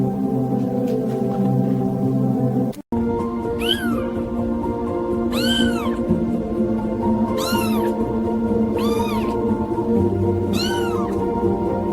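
A cat meows five times at steady intervals, each call rising and falling clearly over a constant background hum.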